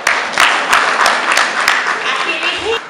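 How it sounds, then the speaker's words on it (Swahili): Applause breaks out from an audience at a teachers' union meeting: a lively mix of sharp claps over dense clapping that holds steady for a few seconds, with a faint voice near the end. "Naomba mpigie makofi"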